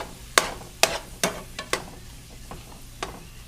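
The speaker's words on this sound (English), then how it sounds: "Give everything a chance to saute evenly." Food sautés in a hot pan at home while a utensil stirs it, giving a handful of sharp scraping knocks spaced unevenly over a low, steady sizzle.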